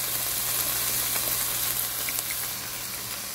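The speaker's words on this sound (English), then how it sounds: "we see the ground beef is cooking, along with all the aromatics we just added into this" Ground beef and aromatics sizzle in a pan, a close, steady crackling fry with faint stirring clicks and no talking.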